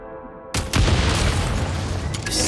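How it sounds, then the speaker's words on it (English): Explosives set off by a gunshot in a video game, a sudden loud boom that breaks a quiet tonal hum, followed by a second heavy burst and a long rumbling roar that fades slowly. "Shoot the explosives to detonate them and clear the path."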